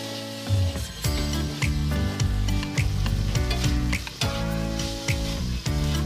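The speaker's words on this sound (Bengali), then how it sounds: "এবার ক্যাপসিকাম ও টমেটো কুচি দিয়ে দেব।" Chopped capsicum and tomato fry with spices in a pan, making a steady close sizzle broken by repeated scraping and stirring strokes.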